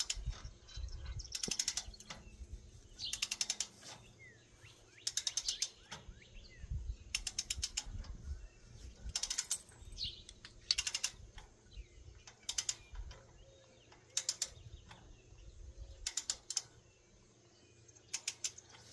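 A wrench tightens a 7/16 grade 5 bolt with a lock washer onto a tube, giving repeated bursts of ratcheting clicks separated by pauses, fairly quiet and close.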